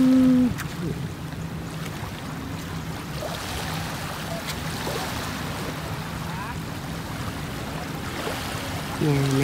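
A fishing boat glides in shallow water with its engine switched off, a steady soft wash of water and paddle strokes continuing for several seconds, with brief tonal sounds at the start and end.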